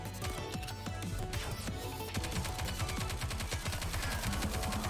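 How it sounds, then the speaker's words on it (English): Rapid bursts of automatic gunfire and layered shooting effects from the video game Goddess of Victory: NIKKE, a dense continuous clatter of shots over busy game sound, with no talking. "What the heck are they shooting at?"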